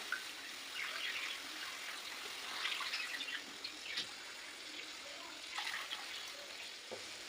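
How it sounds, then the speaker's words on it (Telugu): A thin stream of water trickles and splashes into a pot for pineapple kesari, fairly quiet, with a soft hiss running steadily throughout. "ఇదే కప్పుతో రెండు కప్పులు వాటర్ పోసుకుంటున్నాను"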